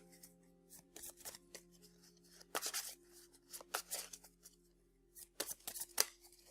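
Arkham Horror card game cards being shuffled by hand at close range, several short riffling bursts separated by brief pauses over a low background hum.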